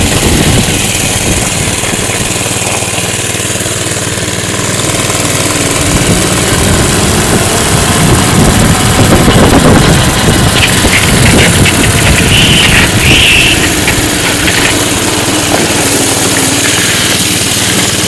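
A mini bike with its original small engine runs steadily and loud nearby, a continuous buzzing drone with slight surges in the middle and no talk.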